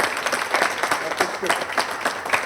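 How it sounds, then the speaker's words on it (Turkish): A small group gives a hearty round of applause for the winner of a competition, lively uneven clapping with distinct individual claps standing out. "yarışmamızın en acayip galibine kocaman bir alkış"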